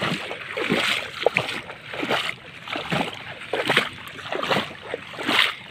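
Rhythmic splashing and sloshing as someone wades through shallow sea water while gathering seashells, each stride a distinct wet surge repeating about once a second, close by.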